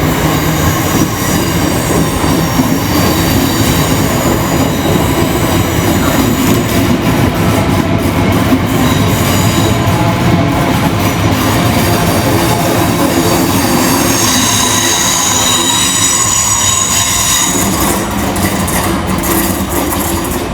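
A Class 465 electric train rumbles through Waterloo East station, a loud, close, continuous roar of wheels and carriages with rail clatter and high squealing from the wheels throughout, and no talking.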